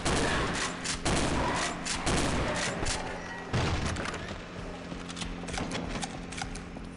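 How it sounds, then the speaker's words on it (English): Volleys of distant gunfire ring out in the Half-Life: Caged mod, sharp cracks and thuds arriving in irregular bursts over a steady ambient bed, with no talk. "Shooting in the distance."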